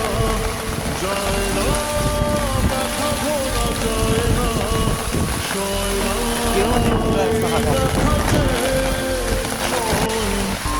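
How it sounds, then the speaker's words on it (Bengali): A heavy hailstorm with pouring rain drums loudly and continuously on surfaces outdoors, with wind buffeting the microphone and a person talking over the constant roar. "এই যে দেখুন প্রচুর শিলাবৃষ্টি হচ্ছে"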